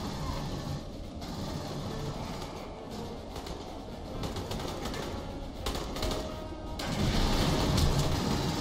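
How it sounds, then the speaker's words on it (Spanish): A grenade explosion in a Spanish-language shooter video game lands amid dense, continuous game noise, with booming, crashing bursts and a louder surge toward the end. "me lanzaron una granada"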